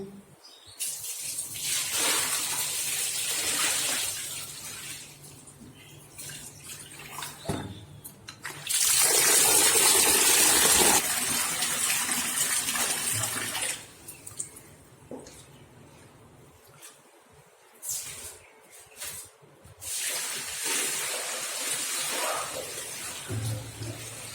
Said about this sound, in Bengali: আটা শেষ হয়ে গেছে তাই ভাবছি গমটা ধুয়ে ফ্রেশ করে নেবো